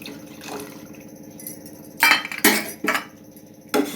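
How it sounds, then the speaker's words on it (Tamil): Custard powder mixture stirred in a bowl, with a spoon clinking against the dish several times in irregular, fairly close strokes, the strongest knocks coming in the second half over a faint background. "ஊற்றுறதுக்கு முன்னாடி ஒரு தடவை நல்லா இப்படி கலந்துக்கணும்."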